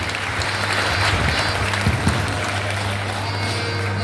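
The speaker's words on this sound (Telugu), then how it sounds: "అందరూ గట్టిగా చప్పట్లతో అభినందిద్దాం." A crowd at a training camp gathering claps together in a dense, continuous wash of applause, with a low steady hum underneath.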